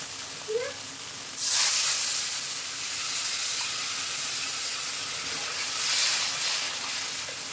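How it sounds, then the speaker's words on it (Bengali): Water is poured into a hot pan of rohu fish curry with potatoes and spices, giving a sudden burst of hissing sizzle that settles into a steady, fairly loud steaming fry, with a second surge of sizzle later. "তো এবার জল দিয়ে দেবো পরিমাণ মতো।"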